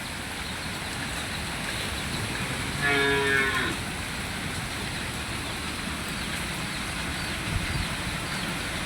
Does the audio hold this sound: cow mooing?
yes